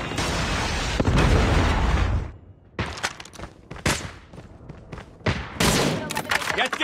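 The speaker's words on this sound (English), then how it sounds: "Friendly predator missile inbound" A predator missile strike in the Call of Duty video game, with a loud sustained blast roar that cuts off, then a string of sharp gunshots and bursts of gunfire, some close and loud.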